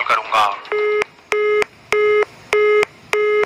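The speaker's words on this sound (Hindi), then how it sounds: "इधर बुरी तरह बेचैन हो चुकी राजलक्ष्मी बार बार अपने बेटे का नंबर मिला रही थी" A telephone busy signal repeats as a number is redialed: five evenly spaced flat tones, each about a third of a second, clear and close, following a brief burst of sound at the start.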